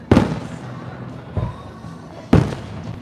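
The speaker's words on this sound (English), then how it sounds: "Watch a little bit more of those fireworks here on Parksville Beach." Fireworks bursting over Parksville Beach during a night-time Beachfest, three loud booming reports spaced about a second apart, the first and last strongest, each followed by a rumbling decay.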